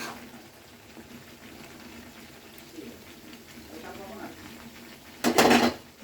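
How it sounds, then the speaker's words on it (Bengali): Eggplant and potatoes with spices stirred in a pan on the stove: a low sizzle and quiet scraping run throughout, then a short, loud burst of metal clattering and scraping near the end. "এবার একটু ভালো করে নেড়ে নিচ্ছি এটা"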